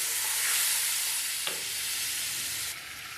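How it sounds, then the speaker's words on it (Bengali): Spice paste for a potol curry being stir-fried in oil, giving a steady close sizzle and hiss with scraping stirs and one brief clink, easing a little toward the end. "এটা ভালো করে কষতে থাকবো।"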